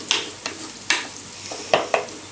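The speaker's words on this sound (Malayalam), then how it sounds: "ഇവിടെ ഏകദേശം സവോള താളിച്ച് മതി." Onions sauté in a pan, a soft steady sizzle punctuated by several sharp scraping stirs of a spoon against the metal, spaced irregularly and fairly close.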